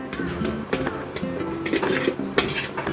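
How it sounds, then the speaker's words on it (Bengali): A spoon scrapes and clinks against a metal bowl while salt, turmeric and chili powder are stirred together for a Bengali fish curry, with irregular taps and scrapes at moderate volume. "এরপর মশলাটাকে একটু ভালোভাবে মিশিয়ে নিচ্ছি"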